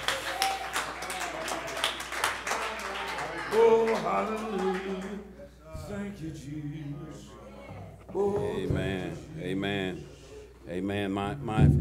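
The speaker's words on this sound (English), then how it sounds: "Come on and clap your hands and praise him one more time." A church congregation at a Baptist district association service claps in praise, steady broadband hand claps filling the room with voices and music over them.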